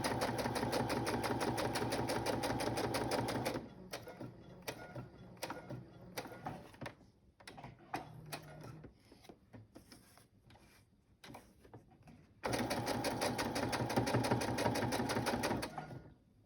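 A sewing machine crazy-stitches across a handmade farm-themed journal in two loud, steady whirring runs with a stretch of quieter clicks and handling noises between them.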